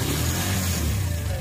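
A motor tricycle's engine starts and settles into a steady low, rumbling idle close by, heard briefly and alone.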